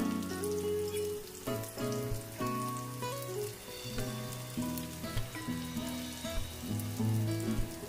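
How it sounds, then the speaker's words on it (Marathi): Onion and tomato roasting with spices in a pan for egg korma, a steady crackling sizzle like light rain running throughout, close and moderate, under a continuous tonal hum. "त्यामध्ये आपण आता टोमॅटो टाकून भाजून घेऊया"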